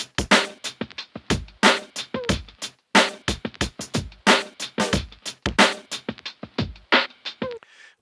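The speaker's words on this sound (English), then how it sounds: "Which is kind of like a hip-hop boom bap type beat" A punchy boom bap drum beat with hard kicks and cracking snares in a steady, looping hip-hop groove, loud and dry with no voices.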